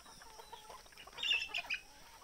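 Sonali desi chickens, hens and roosters of about 1.5 to 2 kg on a free-range farm, give a few moderately near clucks and short calls over a quiet outdoor background, with a brief louder burst near the end.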